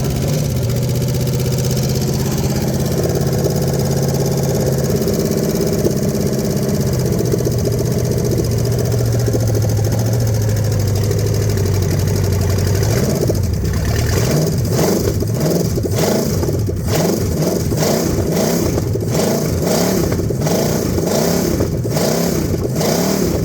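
A 1964 Chevy C50 truck with a rebuilt 283 engine runs loudly and close by, idling roughly at first and then sputtering in uneven, pulsing bursts as it falters.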